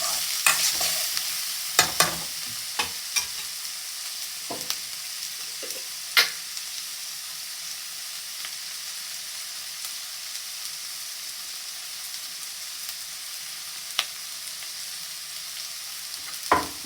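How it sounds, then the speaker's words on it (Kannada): Red capsicum frying in a pan for paneer fried rice: a low, continuous sizzle with occasional sharp spatula taps and scrapes, mostly steady and unhurried with no talking. "ನೋಡಿ ಇವಾಗ ರೆಡ್ ಕ್ಯಾಪ್ಸಿಕಮ್ ಹಾಕ್ತಾ ಇದ್ದೀನಿ ನಾನು. ಇದು ಚೆನ್ನಾಗಿ ಫ್ರೈ ಆಗಬೇಕು"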